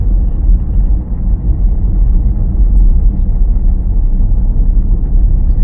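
A car cruising along a single-lane road during a driving lesson, a loud steady low engine and road rumble that runs unbroken throughout with no talk.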